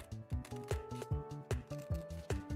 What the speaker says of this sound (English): Can you guys hear the ASMR of paper cutting?